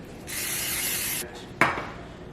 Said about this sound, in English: I'm going to go ahead and spray the pan.